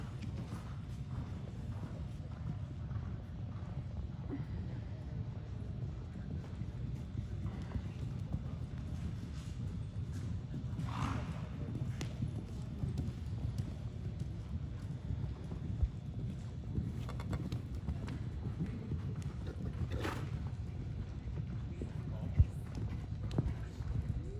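Soft, muffled hoofbeats of horses cantering on the footing of an indoor show arena during a flat class, a steady rolling rhythm under a low roomy rumble, with faint voices.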